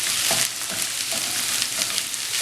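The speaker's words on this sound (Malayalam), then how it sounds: "ഇനി ഇതിലേക്ക് നമുക്ക് സവോളയും പച്ചമുളകും കൂടി ചേർത്ത് കൊടുക്കാം. വീണ്ടും എല്ലാം കൂടെ നന്നായിട്ട് വഴറ്റണം." Okra sautéed with onion and green chilli in a pan for Kerala-style vendakka mezhukkupuratti, making a steady dense hiss of frying with faint stirring scrapes, close and even, no voices.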